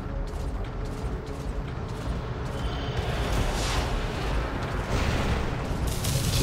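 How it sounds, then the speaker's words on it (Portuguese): Heavy mechanical weapon fire from a mech in the video game War Robots: a dense, grinding, rumbling roar with creaking and ratcheting textures, building in loudness over several seconds and carrying no speech. "Aí eu vou soltar o tiro espacial."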